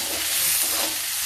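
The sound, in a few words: spinach frying and sizzling in a pan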